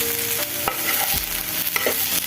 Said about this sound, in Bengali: আমি আজকে ভেজে নিচ্ছি।